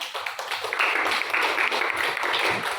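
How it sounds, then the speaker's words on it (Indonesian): A class applauding a student group after its presentation, a fairly soft, continuous patter of many hands clapping with faint voices underneath, somewhat distant in the room. "Tepuk tangan untuk kelompok dua."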